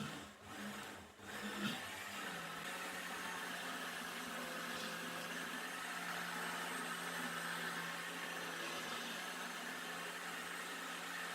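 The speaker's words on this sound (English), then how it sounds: "As it's blending, air is entering from here, making a funnel that will help the blender do a better job." An electric blender runs on soaked beans for Nigerian moi moi batter. It gives a loud, steady, continuous whir that holds unchanged from start to finish, with no voices.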